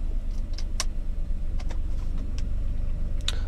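A Mercedes car engine idling after start, a steady low rumbling hum with a few sharp clicks and small mechanical ticks over it, close and moderately loud.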